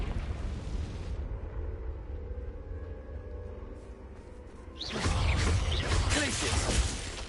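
A Confringo blasting spell goes off in Hogwarts Legacy on PS5 as a rumbling blast, followed by a loud, crackling eruption that bursts in late and sustains with debris-like sizzle.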